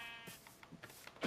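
A few short sheep bleats ring out in a video game, faint and scattered, ending in one louder, closer bleat.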